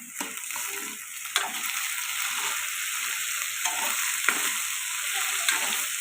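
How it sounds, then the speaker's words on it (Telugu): Potatoes fry in a pan with salt and turmeric, making a constant loud sizzle with occasional spatula scrapes and taps as they are stirred, near and without talk. "ఇప్పుడు బంగాళదుంపలు ఇలా ఫ్రై అవుతున్నాయి కదండి"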